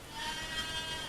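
Goats bleating near a goat barn beside a garden and blackberry patch, a steady, moderately close wavering bleat lasting about a second with no talking.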